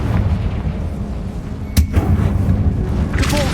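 Confringo explosive spell blast in Hogwarts Legacy, a single sharp boom partway through that stands out above a steady rumble of game ambience and music.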